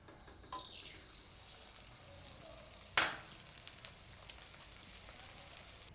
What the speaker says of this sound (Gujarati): તો બધો ગુંદ આપણે એ રીતે તળી લેવું